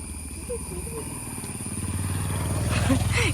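A motorcycle passes nearby; its engine hum builds steadily louder toward the end, with voices faintly present.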